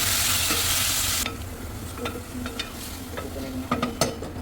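Chicken pieces fry in a pan with garlic, starting with a loud, dense sizzle that quickly settles into a softer crackle marked by scattered clicks and scrapes of stirring.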